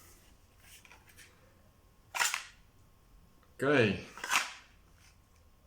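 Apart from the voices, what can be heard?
pistol with loaded magazine shaken and falling out of holster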